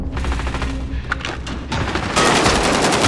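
Video game gunfire rattles in rapid automatic bursts, close and loud, swelling into a denser volley near the end with no speech heard.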